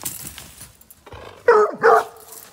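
Bear hound puppies yip and bark in short, loud bursts near the listener, with two strong barking outbursts in the second half after quieter whimpering sounds.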